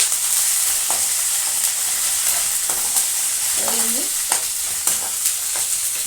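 Ginger-garlic paste sizzling in a hot pan while ridge gourd curry is cooked, a steady bright frying hiss with occasional spoon clinks and stirring scrapes, no talking.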